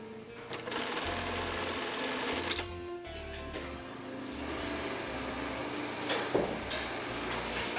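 Home sewing machine stitching bar tacks on a homemade dog leash, close and steady, with its motor whirring in repeated short bursts as the stitching starts and stops.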